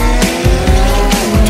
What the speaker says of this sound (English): Ferrari, and he's off.